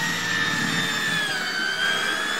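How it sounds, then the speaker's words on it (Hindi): A drill machine boring holes into an old tyre to make a swing, a steady high-pitched whine held continuously and loud, with no talk. "ये हमारे छोटू भाई अभी ड्रिलिंग कर रहे हैं"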